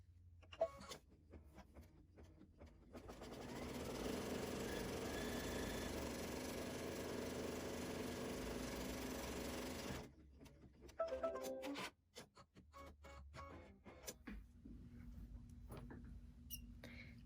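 A home embroidery machine stitches steadily to tack down appliqué fabric for a quilt block, a continuous mechanical whir lasting several seconds, then stopping amid handling clicks and rustles.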